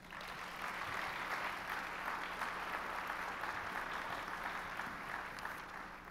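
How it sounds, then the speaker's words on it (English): Sustained audience applause at an impact-investing forum on higher education and community finance, steady and dense for about six seconds as a speaker is welcomed to the stage. "Please welcome him to the stage with a big round of applause."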